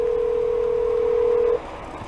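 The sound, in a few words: phone line tone while emergency call is transferred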